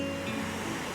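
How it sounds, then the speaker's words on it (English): Waterfalls on a burn rush as a steady, broad water roar, heard from a short distance as a constant low wash. "as you'll see behind me, I've got the waterfalls just there"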